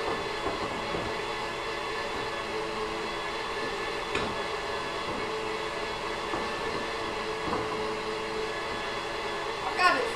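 An electric mixer whips chocolate ganache with a continuous, even motor whine and hum, rich in steady tones, that holds at a fairly loud level for the whole stretch.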